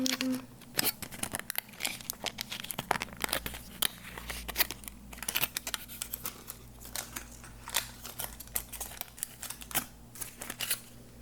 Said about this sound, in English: Gonna play with the foil.